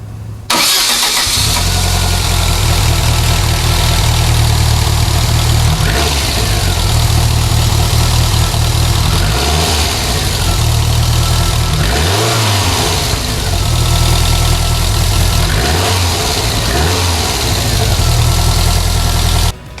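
A Lotus car engine starts and idles, then revs repeatedly in loud, close bursts that rise and fall over a steady rumble, with no talking.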